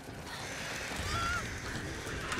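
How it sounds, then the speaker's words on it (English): Startled birds honking in a video game, a few goose-like honks over a low rumbling game backdrop, moderately loud and brief. "No, you scared more birds."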